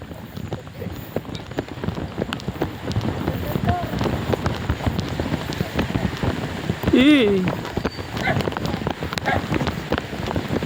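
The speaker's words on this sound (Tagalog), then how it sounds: "Yeah, naulan dyan mo na ako papatulugin." Rain falls steadily on a surface outdoors, a dense patter of drops with a voice briefly heard partway through.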